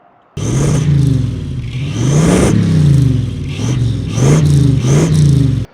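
A car engine starts up and runs, close and loud, rising and falling through several revs in uneven pulses before it cuts off.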